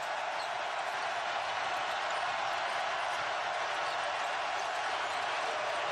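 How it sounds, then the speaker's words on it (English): Crowd in a basketball arena in Fayetteville, a steady broad roar of many distant voices blending into a continuous wash with no breaks. "now we're starting to hear the crowd in Fayetteville come to life"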